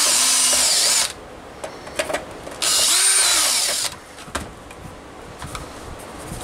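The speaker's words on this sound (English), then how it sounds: "completely through drill this so that I can run screws from the outside" A power drill bores completely through a piece in a workshop, two loud whining bursts of about a second each separated by quieter clicks and handling sounds.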